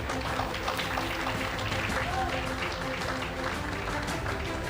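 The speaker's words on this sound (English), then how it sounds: "just applaud her until she leaves the stage" Dinner guests applaud an award winner leaving the stage at a health sciences research gala, a thick continuous clapping with crowd noise and voices talking under it.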